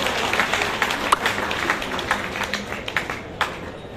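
An audience at a Sahu community oath-taking ceremony in Udaipur welcomes guests with a sustained round of clapping, dense and steady with a few sharper claps standing out.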